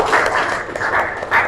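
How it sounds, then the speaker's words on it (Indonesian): A classroom of students claps together in a quick, short burst of applause. The sound is close and fairly loud, with no talking. "beri tepuk tangan yang meriah kalau itu sepakat"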